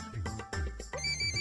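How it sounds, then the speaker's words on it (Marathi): A household telephone rings in a Marathi TV serial scene, a short, loud, melodic ringtone with bright pulsing tones repeating in quick bursts, heard alone without talk. "निकमांच्या घरचा फोन आहे"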